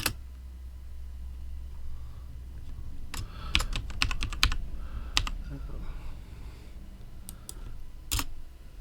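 Irregular bursts of typing on a computer keyboard, with clusters of sharp clicks and pauses between them, close and fairly clear over a low background hum.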